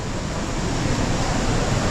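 Steady, dense rushing water roars continuously, a broad wash of noise with no breaks, a waterfall heard fairly close inside a deep cave in Pokhara, Nepal.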